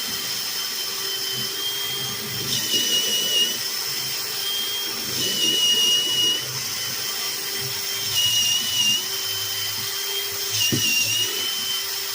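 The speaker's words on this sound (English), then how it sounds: "we're going to use a drill with a 3/8 bit" A power drill with a 3/8 bit whines in steady stretches boring a hole in wood for a railing, pausing and restarting several times, with a high tonal buzz over a low background rumble.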